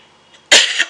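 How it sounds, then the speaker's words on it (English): A single sharp cough, close and loud, after a moment of near silence. "Oh, cough."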